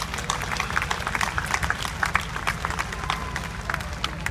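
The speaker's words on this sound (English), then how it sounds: "Ladies and gentlemen, can you please join me in a round of applause for our citizens and our community groups of the year." Crowd applause at an Australia Day ceremony honouring citizens and community groups of the year, lively and fairly close, with dense overlapping claps and a low rumbling undertone throughout.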